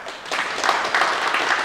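Brief applause for a player at a basketball defence coaching session, a short burst of scattered clapping from a small group that rises after a quiet start and holds steady.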